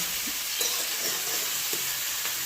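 A pan of mixed vegetables (potato, eggplant, drumstick, pumpkin) sizzles close up, a steady hiss with a few soft stirring knocks.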